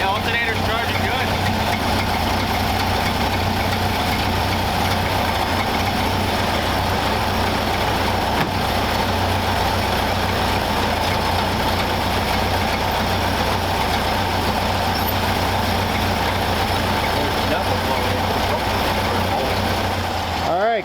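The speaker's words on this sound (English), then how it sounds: "It's idling good. Sounds like a stock Model A." A stock Ford Model A engine idles steadily and continuously at close range after being revived from a garage find, its low, even running sound holding for the whole stretch with people talking over it at times.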